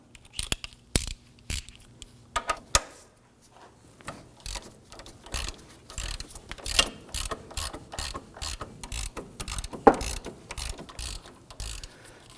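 A hand ratchet on a 15mm socket clicks in quick repeated bursts, loosening a rusted outer tie rod nut on a 2008-2011 Ford Focus, close up and steady with brief pauses, no talking.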